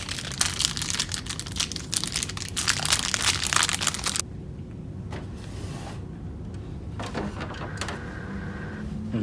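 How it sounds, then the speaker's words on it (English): A Canon PIXMA Pro 100 printer with its front opened, running a mechanical repositioning cycle: a dense rattling, whirring stretch for about four seconds, then quieter motor hum with a few scattered clicks and clunks, close by. "Just open the front up and wait for the printer to reposition."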